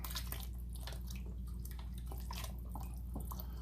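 Vegetable broth poured into a cooking pot, a quiet, steady liquid trickle and splash with soft dripping over about four seconds, no talking.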